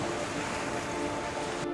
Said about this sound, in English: where the azure waves kiss the golden sands